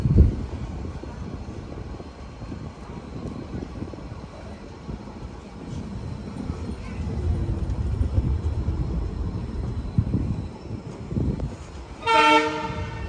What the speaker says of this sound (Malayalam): 3:52 ഹഫ്ലോങ് റെയിൽവേ സ്റ്റേഷനിൽ ഇതാ ട്രെയിൻ എടുത്തിരിക്കുകയാണ്